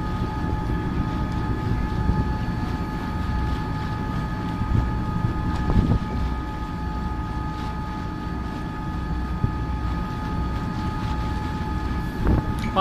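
A ferry crosses the water toward Suomenlinna off Helsinki with a constant low engine rumble and wind buffeting, and a few faint knocks and clatters on board, with no talking.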